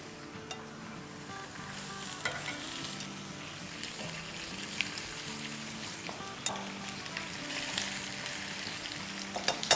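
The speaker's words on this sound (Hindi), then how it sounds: "और अब इन्हें हम फ्राई करेंगे प्याज़ों के साथ, इन पीसेस को" Chicken tikka pieces fry with onions in a pan, a continuous close sizzle with repeated scraping and turning strokes throughout, no voices present.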